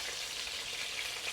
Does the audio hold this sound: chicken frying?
yes